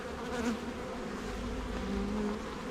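Honey bees hum in a steady, dense drone at a honey hive with a cracked body, heard up close without any voices.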